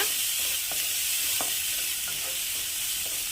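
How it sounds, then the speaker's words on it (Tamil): Steady sizzling of grated coconut roasting in ghee in a pan, with occasional soft scraping and stirring sounds, close by and continuous without any voices. "இந்த நெய்லேயே நல்லா தேங்காயை நம்ம ரோஸ்ட் பண்ணி எடுத்துக்கலாம்"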